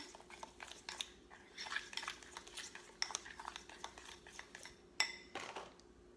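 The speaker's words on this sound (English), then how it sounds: "I like to mix the water slowly because I don't want it too runny." Batter for fried broccoli is whisked in a bowl as water is slowly mixed in. Close, steady scraping and clinking of a utensil against the bowl repeats throughout, with a sharper knock near the end and no talking.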